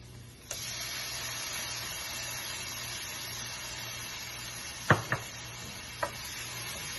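Tomatoes cook with softened onions in butter for street-style paneer pav bhaji, a soft, steady sizzle and hiss broken by a few sharp utensil clinks against the pan.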